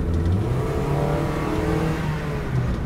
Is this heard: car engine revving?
yes